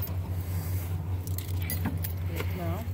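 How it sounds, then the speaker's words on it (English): A bunch of keys jangles and clinks in bursts while someone hunts for the right one at a front door on Halloween night, over a steady low hum, with a voice briefly speaking near the end. "I can't tell which key is the one."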